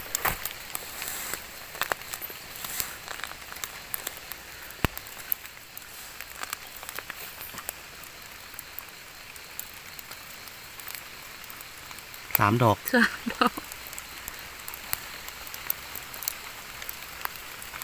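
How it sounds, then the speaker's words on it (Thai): Rain falls in a forest during wild mushroom foraging, a soft, steady patter with scattered drops close by and a brief burst of speech partway through. "ฝนก็ตกด้วยพี่น้อง"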